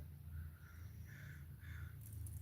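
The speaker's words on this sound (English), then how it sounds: "You can probably hear the crows." Crows cawing outdoors in several short calls, moderately distant, over a steady low background hum with no talking.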